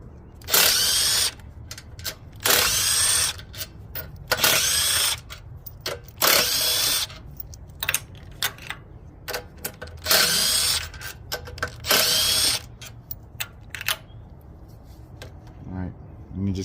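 A power drill with a 12 mm socket runs the six cover screws off a Honda GX160 engine, whirring in repeated loud, close bursts with ratcheting clicks between them and some quieter handling noise.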